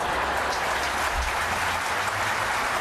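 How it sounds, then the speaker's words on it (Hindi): An audience claps together at a gathering, a dense, steady wash of hands that stays loud and even throughout with no voices standing out. "आप लोग ताली बजाओ"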